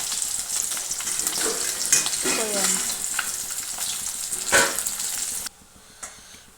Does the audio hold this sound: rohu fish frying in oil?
yes